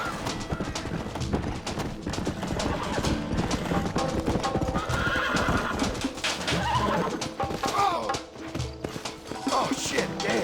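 In the video game Red Dead Redemption 2, hooves clatter in a steady clip-clop while a horse whinnies, with birds cooing and voices mixed into a busy, loud scene.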